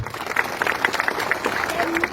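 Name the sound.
audience applause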